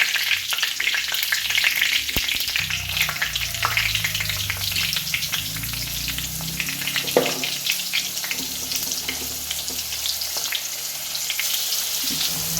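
Fish frying in a hot pan of oil over curry leaves and a thick spice paste, a steady close sizzle that runs throughout with faint stirring and clinking, and no voices.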